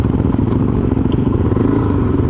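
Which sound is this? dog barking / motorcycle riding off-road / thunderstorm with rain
motorcycle riding off-road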